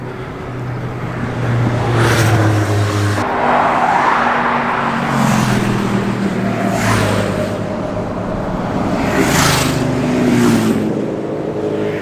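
A classic 1941–46 Chevrolet sedan drives past on a road run, its engine note rising as it approaches, loud and close, then fading, with further vehicle engine sound following.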